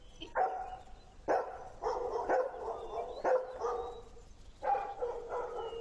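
A dog barks repeatedly, about six sharp, fairly close barks in an uneven rhythm, with short quiet gaps between them and no voices.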